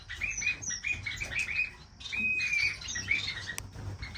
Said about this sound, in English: Here's Mr. Canary.